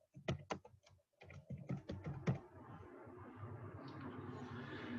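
Clacking of a computer keyboard during an ethics lecture recording, a quick run of sharp keystrokes at first, then a pause and a second burst, close and fairly quiet over a steady hum.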